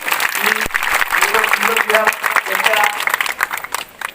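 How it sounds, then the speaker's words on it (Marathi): An audience applauds at the inauguration of a Buddhist vihara and Buddha statue installation in Ganeshnagar, with continuous clapping mixed with voices throughout. "आपण सगळ्यांनी टाळ्या वाजवल्या पाहिजे"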